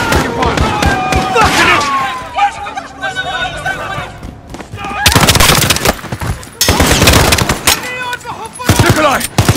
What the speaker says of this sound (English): The gunshot.